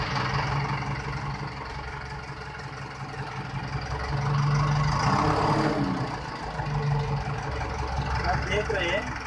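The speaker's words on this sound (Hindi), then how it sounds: "अब हम इंजन स्टार्ट करते हैं तब ये किट ऑटोमेटिक स्टार्ट हो जाएगी।" A JCB 5000cc engine fitted with an HHO kit starts and settles into a steady, close mid-range idle with a low rumble, loudness rising slightly midway, under speech.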